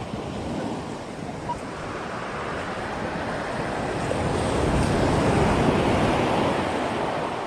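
Ocean waves wash steadily onto a beach in a dense, continuous roar of surf with wind buffeting the microphone, the wash swelling louder in the second half.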